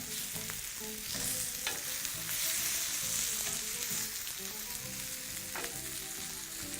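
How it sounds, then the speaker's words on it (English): Peri peri chicken pieces sizzle loudly in a hot pan, with steady frying hiss and repeated scraping and tossing clatter throughout. "So we're just going to keep tossing those on the pan."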